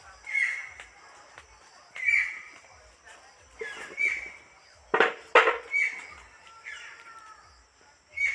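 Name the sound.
bird calling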